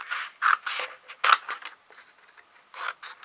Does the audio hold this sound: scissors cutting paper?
yes